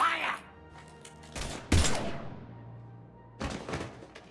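Gunfire erupts in the video game Mass Effect 3, a few heavy thumping shots and bursts around 1.5 and 1.7 seconds, then another volley near 3.5 seconds, with ambient game sound between.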